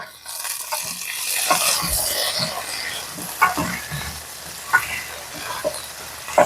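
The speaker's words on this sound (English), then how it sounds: "So now that this is gone, stir it up a little bit." Turkey for an orange brandy and maple syrup Thanksgiving dish sizzles and fries in a hot pan while being stirred, with steady close hissing broken by occasional louder scrapes and clicks of the utensil.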